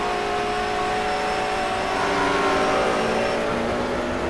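Race cars lap Suzuka in a sim racing video game, producing a continuous, fairly loud engine whine and road roar with no voices over it.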